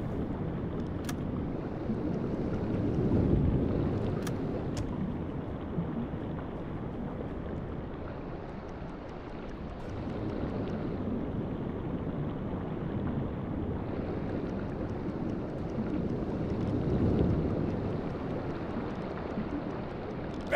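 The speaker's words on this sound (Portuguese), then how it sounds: "Tá, motor de diesel." Diesel engine of a U-boat in the game UBOAT, running on snorkel: a continuous throbbing drone with a slowly swelling and fading wash of noise, no voices present.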